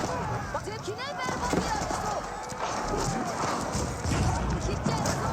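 Horse archers galloping in Age of Empires 4, a dense clatter of hooves and battle noise running steadily throughout, mixed under a commentator's continuous talk.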